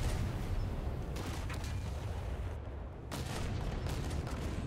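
Big naval guns of the Graf Spee pocket battleship firing in War Thunder, heard as heavy booming gunfire over a continuous loud rumble, with a brief lull near the middle before the roar resumes.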